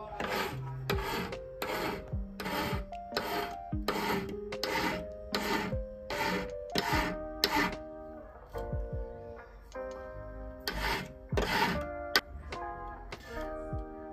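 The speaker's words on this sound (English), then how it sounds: "As I start to blend in with the ring, I start to slow the filing down." A hand file rasps against a gold ring being resized, a regular series of short scraping strokes that pause partway through and then resume, close and clear over faint background music.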